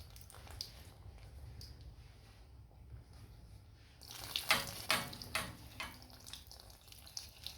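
Water poured into an old sink drain pipe during a DIY replumbing job, a quiet low rumble at first, then a splashy gurgling pour with a few sharp splatters that fade away.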